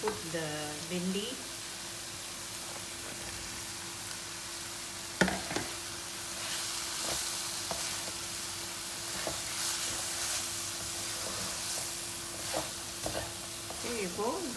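Bhindi (okra) frying in hot oil hisses in a steady, continuous sizzle with stirring clicks throughout, and a faint voice at the start and end.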